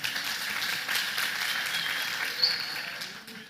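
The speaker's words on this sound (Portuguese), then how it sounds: "Quantos podem dar palmas aí para a nossa equipe?" A church congregation clapping for the team during a service, a fairly soft, even patter of hands that holds steady for a few seconds, no speech over it.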